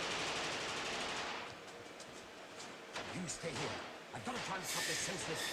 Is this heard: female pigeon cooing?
no